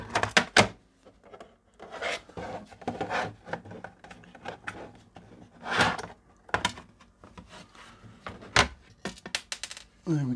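Loose screws being taken out of a ZX81 computer case: scattered close clicks, scrapes and light metallic rattles of small screws and handling, irregular and busy over the whole stretch, no speech heard.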